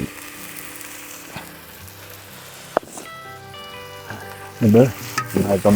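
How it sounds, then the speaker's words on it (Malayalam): Green chillies and ginger frying in a pan for a Kerala-style beef curry, with a steady sizzle and the scrape of a spoon stirring, louder bursts of stirring near the end. "ഈ പച്ചമുളകും ഇഞ്ചിയൊക്കെ നമ്മൾ ചേർത്തില്ല അതിൻ്റെ ഒരു പച്ചമണം മാറുന്ന പോലെ പെരുന്നാടൻ വരെ നമുക്കൊന്ന് ഇളക്കി കൊടുക്കണം"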